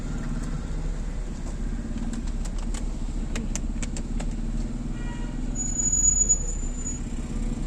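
Cars moving through the congested Nathia Gali bazaar during the busy Eid season, a steady low engine rumble with passing vehicles, faint bird calls and a brief high whine, no talk.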